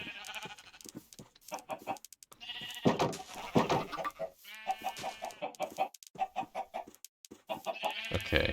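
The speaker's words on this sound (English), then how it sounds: "one white chicken, one blue chicken" Chickens in the video game Minecraft cluck in quick repeated bursts, near and fairly loud, with brief gaps between them and a single short spoken word.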